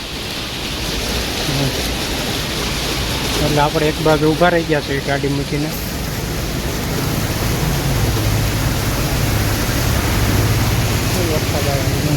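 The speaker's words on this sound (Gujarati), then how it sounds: "વરસાદ આવ્યો છે જોરદાર" Heavy rain pours down in Surat while a parcel delivery worker waits at the roadside beside his parked vehicle; a steady, dense hiss fills the whole clip as someone talks over it briefly.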